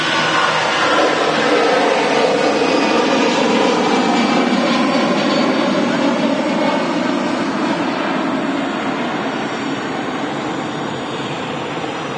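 An EasyJet jet airliner at Manchester Airport produces a loud, continuous engine roar that holds steady for several seconds and then eases slightly toward the end.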